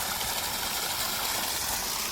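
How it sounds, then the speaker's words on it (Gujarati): Water gushing from a well pump pipe on a farm, a dense steady rushing hiss that holds at constant loudness throughout with no pauses. "કેટલું પાણી આવે।"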